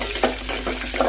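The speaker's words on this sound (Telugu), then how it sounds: "గోంగూర పప్పు తాలింపు వేసుకుంటున్నాము." Tempering for gongura dal sizzles in hot oil, a short crackling fry with a few sharper pops over steady hiss.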